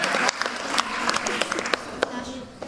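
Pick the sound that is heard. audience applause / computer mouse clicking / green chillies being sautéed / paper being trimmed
audience applause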